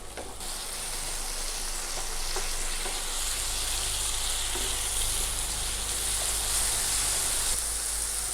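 Chopped tomatoes sautéing in oil with shallots and garlic for a masala curry, a loud, dense, continuous sizzle held close throughout with occasional stirring.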